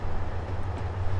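An English Electric locomotive hums under power in a train simulator game, a steady, droning low-pitched hum with a hissy wash of running noise throughout.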